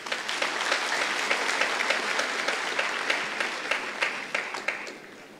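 Clapping from a gathered audience at a memorial service, a sustained burst of many hands that stays fairly loud before tapering off into scattered claps.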